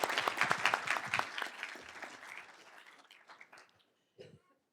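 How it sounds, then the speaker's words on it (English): Applause from a modest audience at a school board meeting, loud at first and then thinning to scattered claps before fading out, with a brief voice at the end. "one more round of applause for her"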